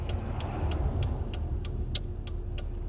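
A car rolls downhill with a steady road and engine rumble, punctuated by repeated short ticking clicks, close and moderately loud.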